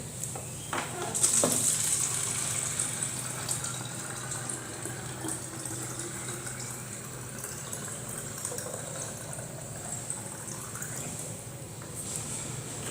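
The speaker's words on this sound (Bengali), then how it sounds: "সুন্দর বোতলটা ভরে গিয়েছে" Steady stream of water running from a water filter into a half-litre bottle, a continuous hissing pour with a brief clatter near the start.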